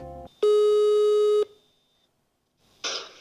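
Telephone tone heard while calling about a rental apartment, a steady loud electronic tone held for about a second, followed by silence and a short burst of noise.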